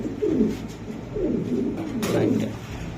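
Danish and Lahori pigeons coo close by in three soft, low, rolling calls, one after another, with a faint voice underneath.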